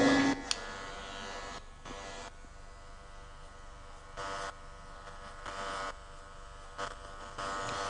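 An electric hair clipper fitted with a number 1 guide buzzes steadily at a barber training event, a faint continuous hum that changes tone slightly as it moves through hair.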